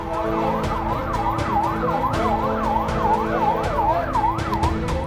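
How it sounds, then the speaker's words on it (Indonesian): Ambulance sirens wail in a continuous rising and falling cycle as the vehicles arrive at the Indonesian Hospital in Beit Lahia, northern Gaza, loud and close over road rumble. "Ambulans terus berdatangan ke Rumah Sakit Indonesia di Bait Lahia, Gaza Utara"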